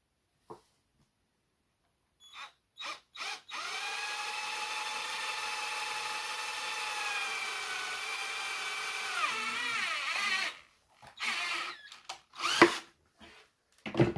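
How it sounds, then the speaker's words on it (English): A power drill whines steadily for several seconds while drilling a hole to fit a reversing camera, its pitch dipping near the end as it bites, followed by a few short clunks and scrapes. "I have to be ultra careful now and whack this drill through here"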